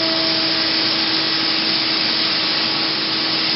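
An airbrush spray tanning machine sprays a constant airy hiss with a steady motor hum, loud and unbroken for the whole stretch.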